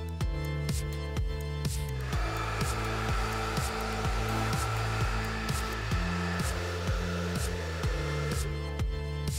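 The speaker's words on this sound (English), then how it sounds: "I like to blow dry my hair with my fingers to get most of the moisture out." A hair dryer blows steadily and loudly nearby while hair is rough-dried with the fingers at the start of a Redken blowout. The droning whoosh runs throughout, with faint rhythmic ticking underneath.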